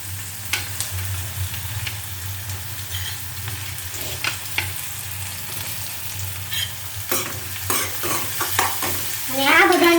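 Green onions and chillies stirred as they fry in a pan: steady crackling sizzle with a low hum underneath and irregular scraping strokes of a spoon, close and continuous, growing busier at the end, with no voices.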